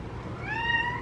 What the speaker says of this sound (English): She is the most vocal cat I've ever met.